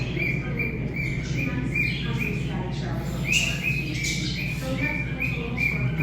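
Bird chirping in repeated short, bright calls at a quick, steady rhythm, fairly close, over a low outdoor rumble.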